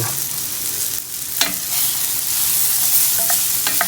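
Vegetables fry over high heat in a hot pan for vegan enchiladas, a loud steady sizzle close up with occasional stirring scrapes and clicks of a utensil, no talk.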